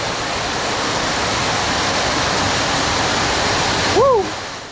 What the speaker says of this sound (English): It is pouring.